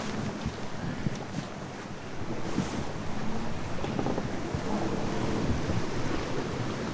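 Wind blows steadily across the microphone on the Atlantic Ocean, rising into stronger gusts partway through, with a faint wash of water and waves beneath it.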